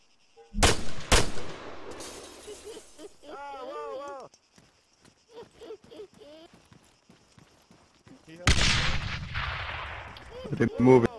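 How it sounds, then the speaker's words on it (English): Gunfire in the military video game Arma 3: sharp, loud shots crack out near the start and again near the end, with a burst of rapid fire, while people talk over radio between them. "They're shooting at the helo."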